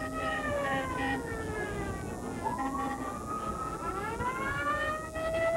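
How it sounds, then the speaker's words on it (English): A fire engine siren wails during a Santa Claus parade in Midland Penetanguishene, its tone rising and falling in steady sweeps, fairly close and loud. "Oh, the siren must be a little loud for that."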